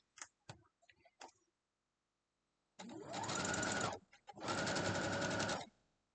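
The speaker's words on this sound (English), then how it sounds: "Let's go sew it, and then all we'll have to do is sew our last row on." Two bursts of a sewing machine stitching a quilt block, each running steadily for about a second or more with a short pause between, preceded by a few faint clicks and taps.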